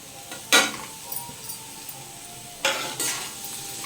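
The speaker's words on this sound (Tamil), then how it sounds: "இது நல்லா வதக்கிட்டு சிம்மிலையே மூடி வச்சிடணும்" Soft frying sizzle of capsicum sautéing in a pan with a few sharp clinks and scrapes of a utensil stirring, close and fairly quiet, no talking.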